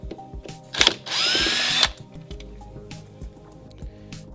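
A power drill spins out hidden fasteners from seatbelt trim during a 3-point seatbelt replacement, giving one loud whirring burst of about a second amid softer clicks and handling noises.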